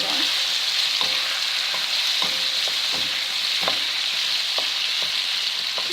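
Calamari and celery stir-fry in a hot wok, a steady close sizzle broken by a series of sharp scraping stirs from the spatula, with no talking.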